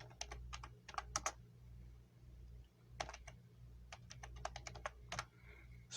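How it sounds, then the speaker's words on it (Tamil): Computer keyboard keys clatter in quick bursts of clicks separated by short pauses, close and clear over a low steady hum, while data is typed into an Excel spreadsheet. "இப்போ நான் எல்லாத்தையும் ஸ்மால் லெட்டரில் டைப் பண்ணிக்கிறேன்"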